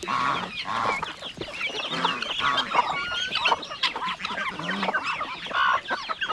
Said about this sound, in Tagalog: May mga naglimlim pa tayo na manok.